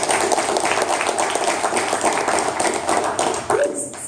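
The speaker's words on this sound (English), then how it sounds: "Round of applause, please." Applause from an audience at a Million Cups Daytona Beach entrepreneur gathering, a steady dense clapping that fills the whole stretch, with some voices mixed in beneath it.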